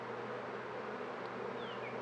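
Honeybees hum around freshly moved beehives in a steady, even buzz, moderately faint and continuous, with no voices over it.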